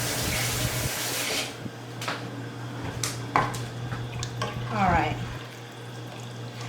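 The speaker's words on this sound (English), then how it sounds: "Let me wash my spoon." A spoon is rinsed under a running kitchen tap, with a steady splash of water and a few clinks of metal against the sink over a low hum, while a voice speaks briefly.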